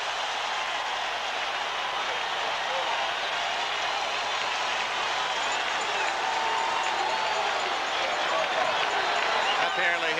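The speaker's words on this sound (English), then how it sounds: "And San Diego's defense gets a cheer." A stadium crowd at a 1980 AFC Championship football game between the Chargers and Raiders cheering for San Diego's defense, a dense, sustained roar of distant voices under a commentator's speech throughout.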